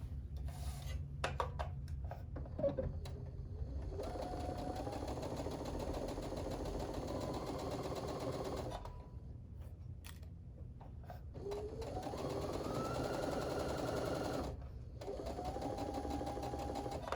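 Sewing machine stitching quilt pieces together: two long runs of fast, even mechanical whirring and needle clatter, close and steady, separated by a short pause.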